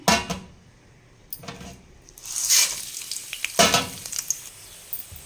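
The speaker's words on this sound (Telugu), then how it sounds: "ఉద్దిపప్పు, శనగపప్పు ఇట్లా కొంచెం గోల్డెన్ కలర్లో వచ్చేలాగా వేయించుకున్నామండి." Urad dal and chana dal fry in an oil tempering alongside garlic and onion, heard as sizzling bursts broken by several loud stirring scrapes against the pan, close and without talk.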